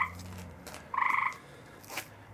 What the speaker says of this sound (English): That's my tree frog. He's making a lot of racket tonight.